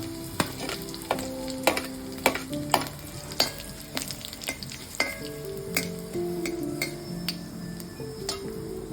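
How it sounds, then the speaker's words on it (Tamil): Chillies, curry leaves and onions sautéing in hot oil after mustard seeds splutter, with a continuous close sizzle punctuated by sharp clicks and taps of a spoon stirring against the pan, no talk. "கருவேப்பிலையை போட்டு வெங்காயத்தை போட்டு வதக்கணும்."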